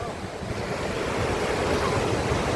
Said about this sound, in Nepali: यहाँ झर्ना मैलुङ झर्ना